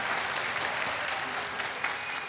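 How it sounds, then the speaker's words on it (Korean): Audience applause breaks out at a public talk event in Busan, a dense, sustained clapping wash from a crowd, steady throughout and fairly soft in level. "여러분 격려의 박수 부탁드립니다"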